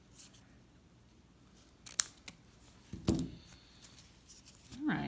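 Scissors snip fabric scraps for tiny ornaments, a few crisp separate cuts close by with quiet handling noise between them.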